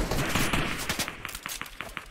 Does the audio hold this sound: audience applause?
no